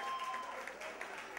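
Applause at a karaoke awards night in a Hard Rock Cafe, honoring a singer, with dense clapping carrying on steadily and fairly quietly, and a faint tone running through the first half.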